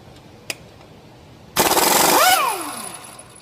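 An Ingersoll Rand 2235 TiMAX air impact wrench hammers loose a crankshaft bolt on a 2011 Honda Pilot 3.5, a loud rapid rattling burst of about a second that winds down with a falling whine, after a single sharp click.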